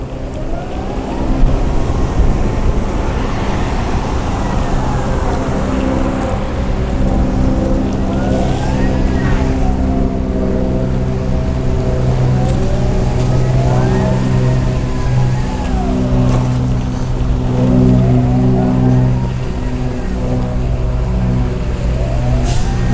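Permobil F5 power wheelchair in camo colour driving over grass, a steady motor drone lasting throughout with rising and falling whine, close and fairly loud, with no talking.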